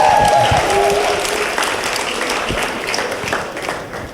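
A comedy audience bursts into loud, dense applause and cheering that fills the room, then gradually thins out toward the end.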